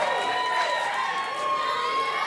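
Wrestling crowd at a UWA Elite show sends up scattered cheers and shouts, a steady dense roar of voices with a few whistles and yells poking out, continuous and fairly loud throughout.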